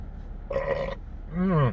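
A short burp during a McDonald's fast-food meal, with a brief voiced rasp followed by a lower, louder belch, close and alone.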